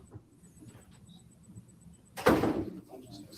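An office door opens with a sudden loud swish and thud partway through, following a stretch of quiet room tone with faint talk in the background.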